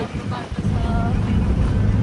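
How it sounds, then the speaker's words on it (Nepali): Cold wind on a trip toward Ghalrukh buffets the microphone in a steady, loud, low rumble that swells and holds throughout, with no clear speech. "ठन्डा ठन्डा हावा आइरहेको छ"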